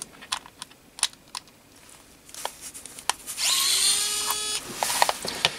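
An ES121 electronic screwdriver backs out a small screw, first with scattered light clicks and taps, then a close, steady high motor whine for about a second and a half, followed by a few more clicks.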